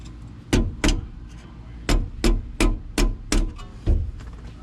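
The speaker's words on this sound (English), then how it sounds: "tap it with a hammer and a screwdriver" Eight sharp metallic taps in an uneven rhythm, struck close up with a hammer against a screwdriver while seating a rear disc brake part on a 1974 Volkswagen Westfalia, with a faint hum underneath.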